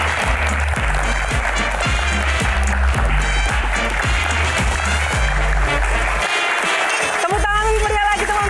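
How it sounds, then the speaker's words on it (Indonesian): A crowd applauds Anies Baswedan, a loud, steady wash of clapping mixed with a pulsing musical beat and voices that runs nearly the whole time, dipping briefly near the end. "Kita berikan tepuk tangan yang meriah untuk Anies Baswedan."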